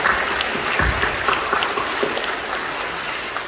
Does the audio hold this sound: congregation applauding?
yes